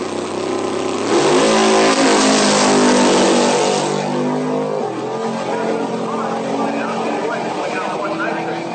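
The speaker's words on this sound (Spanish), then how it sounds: "Competiciones de aceleración" Drag racing car launches hard on a quarter-mile dragway, its engine roaring loudly after the first second and then fading as it pulls away, with excited voices talking over it.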